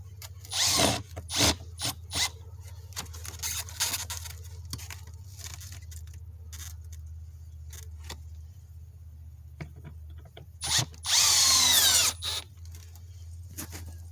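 A power drill drives a 2.5-inch metal roofing screw with a small washer in a few short bursts, and one longer loud whirring run near the end, against a low steady hum with quiet gaps between.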